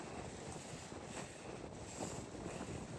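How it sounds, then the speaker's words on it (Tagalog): Steady wind blows outdoors on a walk, a broad unbroken rush that buffets the microphone at moderate, constant loudness with no voices. "Kasi ang mahangin eh."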